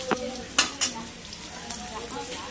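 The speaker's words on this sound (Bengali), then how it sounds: "তেলটা গরম হয়ে আসবে বন্ধুরা, এরপরে আমি দিয়ে দেবো হচ্ছে আলুটা বন্ধুরা।" Potatoes sizzling in hot oil in a home kitchen, a steady low fry with a few sharp clatters and stirring knocks near the start, close and moderately quiet.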